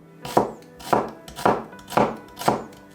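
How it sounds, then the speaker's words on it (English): A knife chops a red onion into half moons on a board, five evenly spaced crisp cuts landing about every half second, close and clear with no talk. "Cut the red onion into half moons."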